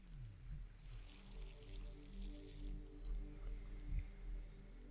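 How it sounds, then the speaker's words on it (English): Water pours from a watering can onto a single plant in the Wrongworld video game, a soft steady hiss of streaming water that swells briefly, faint under low background game ambience. "Let's water my single bloody plant."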